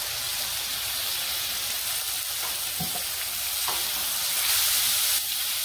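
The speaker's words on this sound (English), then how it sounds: "Get some of that sizzle." Chicken pieces and garlic sizzle and fry steadily in hot sesame oil in a pan, a dense, close crackling hiss with a few soft stirring knocks and no talking.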